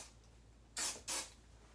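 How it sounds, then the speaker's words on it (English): Catwalk Root Boost hair spray is sprayed through the back of the hair in two short, close hissing bursts separated by a brief pause, against a quiet room. "I am spraying this all through the back"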